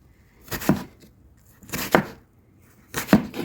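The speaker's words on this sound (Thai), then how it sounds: "ก็หั่นหั่นไปนะ แล้วก็ใส่ถ้วย" Knife chopping fruit on a board for a homemade fruit salad with a dull blade, heard as three separate cutting strokes spaced about a second apart, close and fairly crisp in a quiet kitchen.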